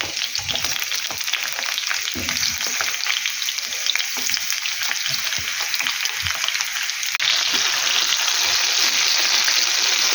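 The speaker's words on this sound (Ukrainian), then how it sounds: "перчик гарненько так і смажується" Steady, dense sizzling of bell peppers frying in a hot pan, with occasional pops and crackles, close up and continuous throughout.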